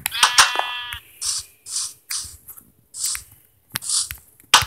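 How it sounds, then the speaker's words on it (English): Sheep bleating in a video game, a quavering bleat at the start followed by several short bursts of noise, close and fairly loud. "Sheep room only has one sheep."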